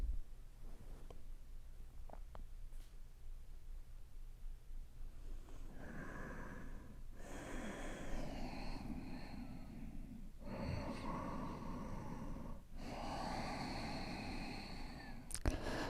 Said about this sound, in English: Use your Ujjayi breathing.